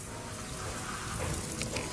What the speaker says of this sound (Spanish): lavamos cuidadosamente con agua limpia la escoria de carbón para limpiar todas las impurezas que pueda contener